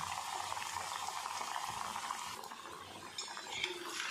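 Cheese potato pieces frying in hot oil, giving a steady, close bubbling sizzle throughout with a few light utensil clinks near the end.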